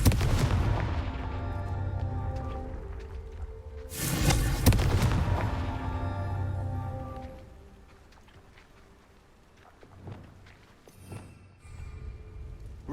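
The Confringo blasting spell in Hogwarts Legacy lands a loud fiery burst after a humming buildup, then fades into faint game ambience with a few smaller crackles.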